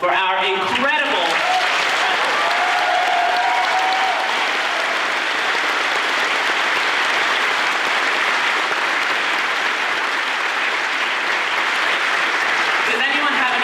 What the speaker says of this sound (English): Can we please get a round of applause for our incredible...